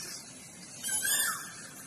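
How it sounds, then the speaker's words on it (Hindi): A koel calls near mango trees: one rising whistled note that swells briefly and fades, heard alone over a faint, steady background. "कोयल के कूकने की सुंदर आवाज।"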